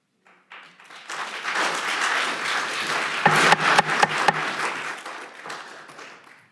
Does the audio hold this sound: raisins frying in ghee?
no